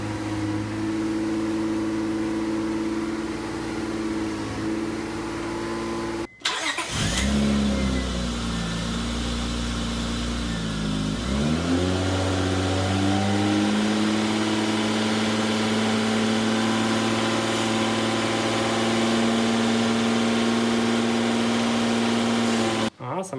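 A 2002 Acura TL-S engine runs steadily at a held 2,000 RPM, a continuous close hum with one brief cut-off and a shift in tone partway through, while a voice talks over it.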